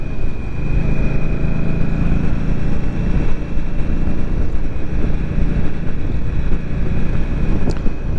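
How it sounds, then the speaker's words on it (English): An Indian Scout Rogue Sixty motorcycle engine drones steadily while riding, with heavy wind rush over the microphone throughout. No voices. "I'm out riding a motorcycle"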